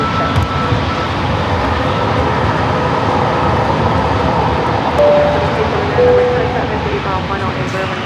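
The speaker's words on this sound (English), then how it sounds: "This flight heading to Nashville, flight 4147 is 737 and max 8." A Boeing 737 MAX 8 airliner on a runway at San Diego airport produces a loud, steady roar of jet engines, close and continuous, with a voice talking over it.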